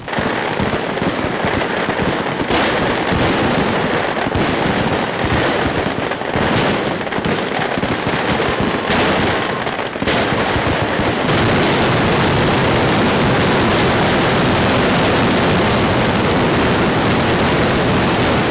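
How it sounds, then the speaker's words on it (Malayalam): Morning fireworks by the Paramekkavu side at Thrissur Pooram roar as a dense, unbroken barrage of loud bangs and crackling explosions, rising to an even fiercer continuous volley near the end. "പാറമേക്കാവ് വിഭാഗം വെടിക്കെട്ടിന് തിരികൊളുത്തി"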